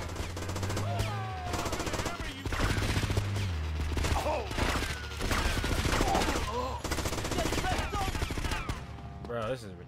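Sustained gunfire in the GTA Sindacco Chronicles video game, with rapid bursts and overlapping shots layered over a low engine drone, loud and nearly continuous, while someone talks over it.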